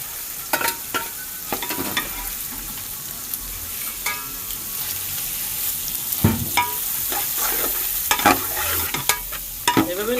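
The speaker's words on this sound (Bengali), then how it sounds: "এখন আমরা চিকেন চিলি অনিয়ন ঢেলে দিলাম।" Chicken, chili and onion tipped into a hot pan and stirred as they fry, a steady sizzle broken by repeated scraping clatters of the spatula against the pan, close and fairly loud with no talking.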